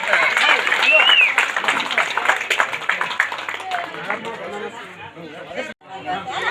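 Applause at a Dalit Sangharsh Samiti village unit inauguration in Talikote, a burst of clapping from a gathered crowd that thins and fades over busy chatter and an amplified voice.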